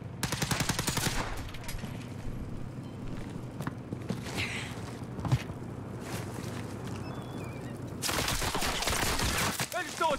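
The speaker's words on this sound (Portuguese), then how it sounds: "Eles estão atirando em mim." Rapid automatic gunfire from the video game Rebirth Island rattles in fast bursts at the start and end, with quieter scattered shots and footsteps between.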